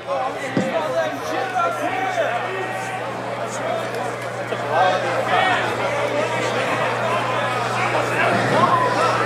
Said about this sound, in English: Just a bunch of people yelling from the sides who aren't dancing